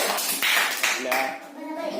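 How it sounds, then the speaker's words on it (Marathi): A burst of applause from a group at a primary school event, hands clapping in quick irregular bursts, with a voice speaking over it toward the end. "टाळ्या वाजा सगळ्यांनी"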